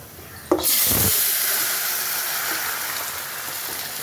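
Kohlrabi tipped into hot mustard oil left from frying fish, with chilli and a bay leaf, bursts into a loud sudden sizzle that settles into a steady, slowly fading hiss of frying.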